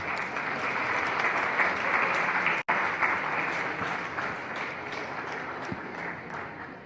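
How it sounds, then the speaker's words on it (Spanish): An audience at an international food safety seminar breaks into steady, sustained applause, a dense wash of clapping that holds for several seconds and slowly fades, with a brief cut partway through. "Y le brindamos un fuerte aplauso también,"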